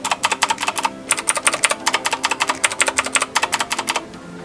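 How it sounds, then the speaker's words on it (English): Rapid typing on PBTFans Resonance PBT keycaps gives crisp, close, higher-pitched keystrokes in quick bursts with a short pause, then trailing off near the end. "in terms of sound, the PBT is higher pitch than the ABS of the Keychron."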